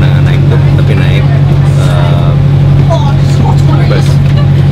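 Steady engine drone of a London city bus, heard from inside as a passenger, with a strong low hum throughout and faint voices in the background.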